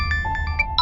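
A phone ringtone for an incoming call chimes in short repeated electronic tones, about five bursts over a steady low background hum, fairly close and clear with no talk over it.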